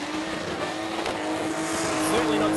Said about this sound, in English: Certainly not scared of the RPM today in the little 6-cylinder.